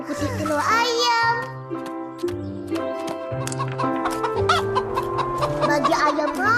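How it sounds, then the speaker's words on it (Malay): Cartoon chickens cluck busily in the animated series Upin & Ipin, a lively run of clucks over bright background music, with a voice speaking alongside. "Bagi ayam makan."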